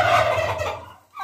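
A turkey gobbles at a farmhouse, a loud, close, rippling call that fills the second and fades out, followed by a brief higher sound.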